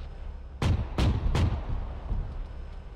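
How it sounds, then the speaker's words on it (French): Explosions on a town square in an Arma 3 cooperative mission: three sharp, heavy booms in quick succession, each followed by a fading rumble, moderately loud and without speech. "Explosion devant."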